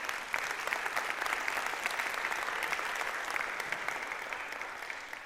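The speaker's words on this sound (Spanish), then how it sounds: "un fuerte aplauso al Señor" A church congregation bursts into sustained applause, a steady, full wash of many hands clapping at an even level for the whole stretch, with faint crowd murmur beneath and no talking over it.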